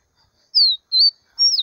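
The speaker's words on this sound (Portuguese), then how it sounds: "Passarinho só canta parado, né?" Caboclinho seedeater singing outdoors in open country: three short, clear, whistled notes, each slurring downward, rising out of near silence at close range with brief gaps between them.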